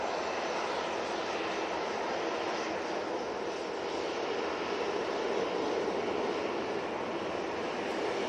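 Brussels Airlines Airbus A319 jet at Manchester Airport, a continuous fairly faint engine rumble and hiss, heard from a distance and unchanging throughout, with no voices.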